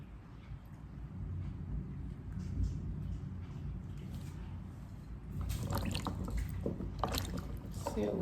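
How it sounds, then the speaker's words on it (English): Tap water runs steadily while garlic is washed in a kitchen, a continuous splashing flow that grows louder and brighter toward the end, with a voice speaking over it. "So we'll start by washing it. Washing the garlic."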